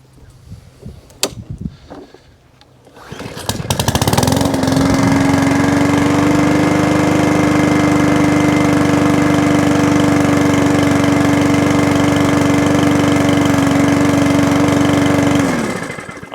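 Two small petrol-engine machines, one running on stored E10 ethanol fuel and one on ethanol-free petrol kept over winter, start with a few knocks, then settle into a loud, steady idle with a constant drone that runs uninterrupted until cut off.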